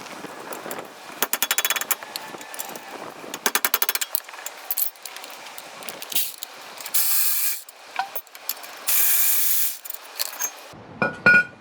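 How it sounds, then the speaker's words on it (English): A hand ratchet loosens the caliper mount bolts during a front brake job on a 1998 Toyota Avalon, rapid clicking bursts alternating with longer grinding runs, close and loud, with no talk. "Removing the caliper mount, there's 2 bolts, one here,"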